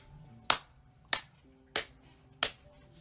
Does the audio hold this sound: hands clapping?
yes